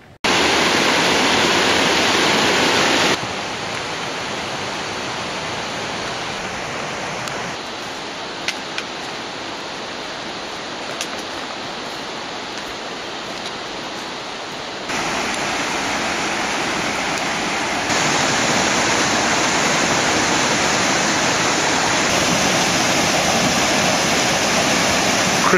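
Constant loud rushing of a snowmelt mountain river in the Enipeas Gorge on Mount Olympus, a dense broadband roar close by, steady throughout with no voices.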